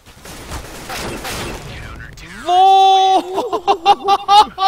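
Bursts of rapid gunfire and impacts crackle through a first-person shooter match for about two seconds, then give way to a voice talking.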